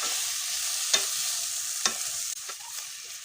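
Tripe stirred with fried spices in a pan gives a steady close sizzle, with a few distinct scrapes of a spoon against the pan spaced about a second apart.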